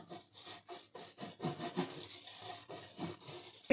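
A pastry brush is stroked repeatedly over a cake mould to grease it for a chocolate marble cake. The soft, rhythmic brushing rasps come in quick, even strokes, close and quiet, with no talking.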